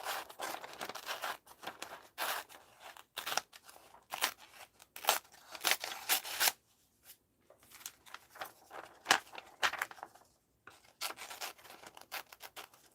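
Scissors snip and rustle through paper in short, close bursts with brief pauses, a quiet crisp crunching of careful fussy cutting for an art journal.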